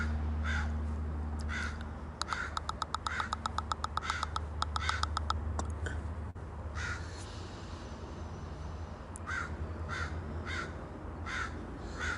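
Crows caw repeatedly at sunrise, a series of loud, harsh calls in quick bursts and then scattered single caws, over a steady low background hum.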